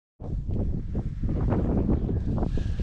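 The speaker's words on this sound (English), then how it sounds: "The wind's so extreme, but so is the view." Strong wind buffets the microphone at the top of a hill in Scotland, a loud, continuous rough roar that starts abruptly and holds with gusty swells, nothing else audible.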